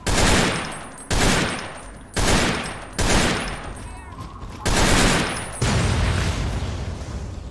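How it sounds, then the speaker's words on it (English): Grenades explode in the game Fallout 3 as heavy booms roughly once a second, layered with gunfire and rumbling tails. A voice speaks briefly between the blasts. "They're really inaccurately throwing grenades at me"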